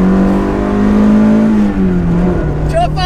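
A Toyota AE86 engine revs loud and close as it shifts into third gear. The steady drone dips in pitch partway through, then settles lower with a faint higher whine.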